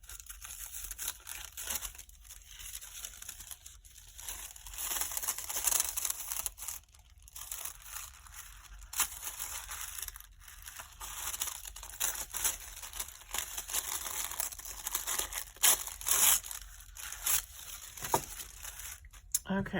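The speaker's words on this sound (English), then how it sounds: "I think I'll use some Tim Holtz tissue paper." Tim Holtz tissue paper is handled and crinkled close up, a continuous papery rustle and crackle that keeps going throughout, with a voice speaking at times.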